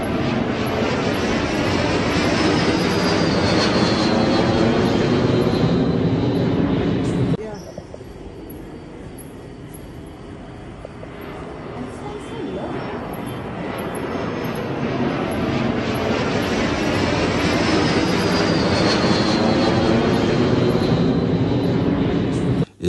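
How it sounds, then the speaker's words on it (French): Fighter jets make repeated low-altitude passes over a city avenue, producing a loud, close, continuous jet roar that dips briefly midway and then swells back to full strength. "d'expérimenter des vols répétitifs d'avions de chasse à basse altitude"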